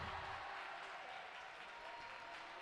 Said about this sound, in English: It's getting the crowd going here at Uni High.